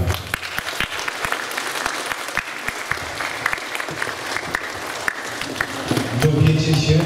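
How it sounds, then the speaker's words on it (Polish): Audience at a summer safety meeting clapping vigorously, a dense, close burst of applause with sharp individual claps that swells slightly toward the end. "Wielkie, wielkie brawa."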